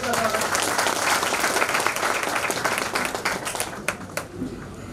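An audience at an annual organisational election meeting claps to welcome the vice president, Nigam Sahab, in a dense, loud burst of many hands that tapers into scattered claps near the end, with voices mixed underneath.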